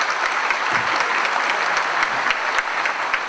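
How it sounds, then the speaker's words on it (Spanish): A live comedy show audience gives a strong round of applause, a dense wash of clapping that holds steady and fairly loud for the whole stretch, with no voices over it. "para que pida un fuerte aplauso"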